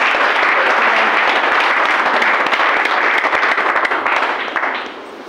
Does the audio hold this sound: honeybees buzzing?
no